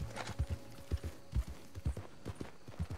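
Horse hooves in the video game Red Dead Redemption 2, a slow, even clip-clop of a horse walking close by, with faint ambient background and no speech.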